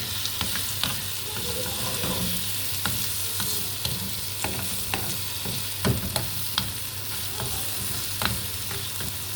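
Eggs and vegetables sizzling in a pan of shakshuka while being stirred, a constant near hiss punctuated by frequent sharp spoon clicks and scrapes against the pan, no talking.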